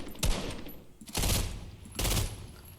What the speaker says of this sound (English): Let's compare it to the assault rifle.